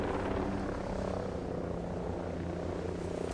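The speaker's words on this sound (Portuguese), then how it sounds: "Escuta, escuta. Avião, avião. Helicóptero." A helicopter in the video game Ghost Recon Breakpoint chops and drones steadily overhead, a continuous low throbbing rumble with no talking.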